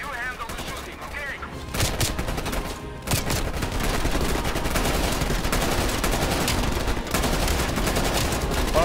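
Sustained helicopter-mounted gunfire in Call of Duty: Black Ops Cold War, dense and loud bursts of automatic shots over rotor and battle noise, with talk mixed in.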